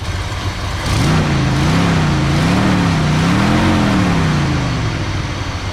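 A 1970 Ford F100 pickup truck engine idles steadily and loudly nearby, a deep rumbling drone with a slightly wavering pitch, starting up after a moment and running without pause.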